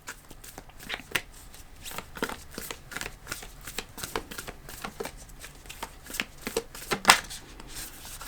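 Tarot cards shuffled and drawn from a deck during a reading: a steady run of soft riffling, flicking and slapping snaps, close and moderately loud, with one sharper card snap near the end and no talking.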